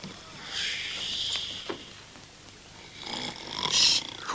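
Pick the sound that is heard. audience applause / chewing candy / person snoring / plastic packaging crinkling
person snoring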